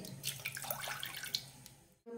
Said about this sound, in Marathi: त्यात आता आपल्याला 1 कप डाळीसाठी मी इथे 3 कप पाणी टाकून घेणार आहे